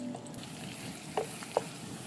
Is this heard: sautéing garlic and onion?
yes